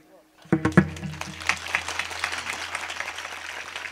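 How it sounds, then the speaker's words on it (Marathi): An audience at a kirtan in Wardha district breaks into applause after a quiet moment. Many hands clap together in a dense, lively burst that stays steady to the end. "तुम्ही बघितलं का टाळ्या कुठं वाजल्या"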